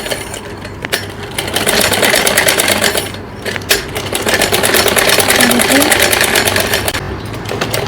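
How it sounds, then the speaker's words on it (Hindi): A sewing machine runs steadily while stitching a children's night suit, its continuous mechanical whir close and loud with a brief pause near the start and another around three seconds. "इस प्रकार से पूरे पर सिलाई लगा के इसको कंप्लीट कर लेंगे"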